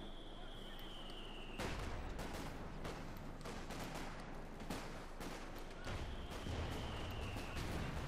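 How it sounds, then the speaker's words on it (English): Pintle-mounted machine gun fire in Company of Heroes 2, heard as repeated loud bursts of gunfire and battlefield noise layered over a steady game backdrop. "The pintle mounted machine gun."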